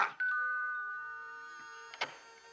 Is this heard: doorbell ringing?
yes